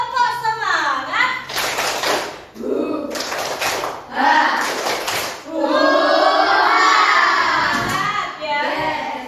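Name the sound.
schoolchildren doing a spirit clap and shouting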